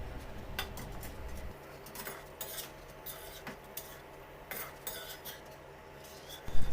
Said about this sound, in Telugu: ఆయిల్ పోసుకుని మనం ముందుగా పక్కన పెట్టుకున్న పావు కేజీ జీడిపప్పుల్ని వేసి కలుపుకుంటూ ఐదు నిమిషాలు మీడియం ఫ్లేమ్లో జీడిపప్పులు కొద్దిగా క్రిస్పీగా అయ్యేంతవరకు వేయించుకోవాలి